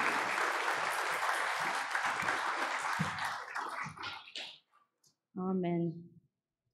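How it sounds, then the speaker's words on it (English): A church congregation applauds during a Sunday service, sustained clapping that thins out and fades, followed by a short spoken word after a pause. "clap for her as she goes back"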